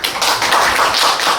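A lecture audience at an industry special talk on software development gives a short, loud burst of close clapping that lasts little more than a second.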